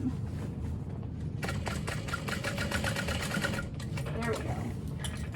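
Domestic sewing machine stitching over a seam while making a fabric bag, a fast rhythmic mechanical whirr in a few bursts with brief pauses, close and clear over a low background hum.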